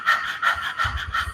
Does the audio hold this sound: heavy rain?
no